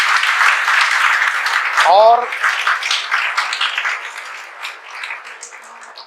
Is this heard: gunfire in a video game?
no